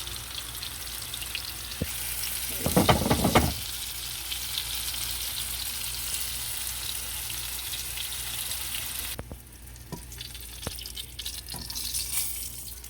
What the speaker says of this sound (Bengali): এখন আমি এগুলোকে ভাজবো।